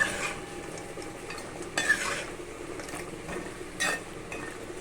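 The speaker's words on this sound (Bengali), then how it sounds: "যেহেতু কাঠিগুলো একটু মোটা মোটা থাকে তো ওই জন্যে ভাজতে একটু সময় লাগে" Thick kotkoti dough sticks fry in hot oil as a steady, close sizzle, broken by a couple of brief scraping stirs and light metal clinks from a spatula in the pan, with no voices.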